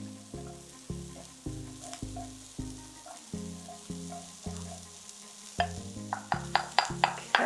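Cauliflower sizzles in a hot pan while a utensil stirs it in steady scraping strokes roughly every half second, the stirring growing quicker and sharper toward the end, with no talking.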